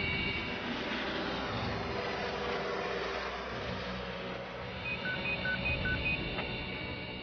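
A SAMU medical helicopter reverses for a backward takeoff at night, its engine and rotors making a steady, loud, close drone throughout. A short series of electronic beeps sounds near the end.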